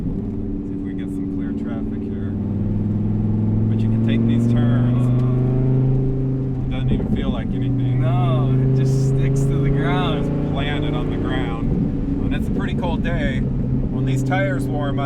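A Dodge Viper ACR Extreme Aero on a race track, its engine droning steadily with rising and falling pitch through corners, loud and close from inside the car, with a person talking over it.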